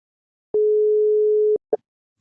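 A phone call tone: one steady electronic beep lasting about a second, followed by a short click, clear and alone.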